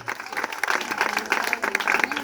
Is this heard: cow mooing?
no